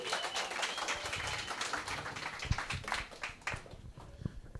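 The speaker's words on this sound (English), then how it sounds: "Let's please give her a round of applause." An audience at a digital marketing workshop claps for a speaker brought on stage, a dense patter of hand claps lasting a few seconds and thinning slightly toward the end.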